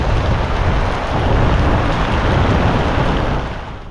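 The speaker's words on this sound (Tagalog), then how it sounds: "Dahil maputik, malakas na naman yung naging ulan." Heavy rain pours down on a muddy farm field, making a loud, dense, continuous hiss with no break and no voices.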